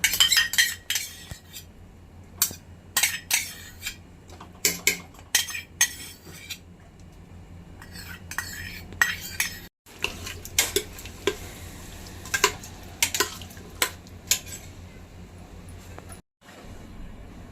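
A spoon mixes whisked curd into masala rice in a pot, giving repeated clinks and scrapes of metal against the vessel at an irregular pace, fairly close and moderately loud, with no talking.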